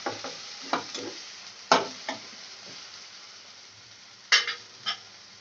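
Finely chopped tomatoes tossed into a sizzling pan of onions, a quiet steady fry punctuated by several sharp stirring clatters of a spoon against the pan, no voices.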